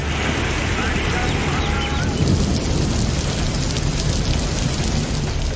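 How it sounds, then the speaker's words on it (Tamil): Heavy rain pours down steadily with a dense, hissing wash and a low rumble underneath, continuous and loud throughout with no letup. "குன்னம், கொடக்காநத்தம், மருவத்தூர், சிறுகன்பூர் உள்ளிட்ட பகுதிகளில் கனமழை பெய்தது"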